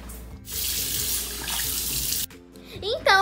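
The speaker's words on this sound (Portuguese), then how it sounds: "o chuveiro tá pingando aqui atrás" Water from a household shower pours steadily behind a bathroom scene, then cuts off briefly before resuming with a clatter while a young voice briefly speaks.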